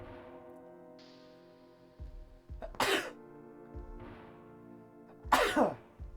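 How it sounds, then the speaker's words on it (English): Two sudden, sharp sneezes burst out a few seconds apart, each preceded by a short voiced intake, over a steady, quiet game backdrop of sustained tones. "Sudden sneezes."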